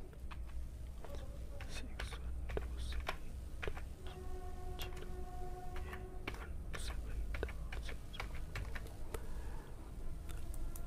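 Scattered key taps on a computer keyboard, irregular and close, over a low background hum with a faint tone in the middle.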